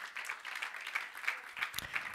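A church congregation clapping together in a steady rhythmic beat during a Spanish-language communion service, faint and somewhat distant, with a few louder claps toward the end.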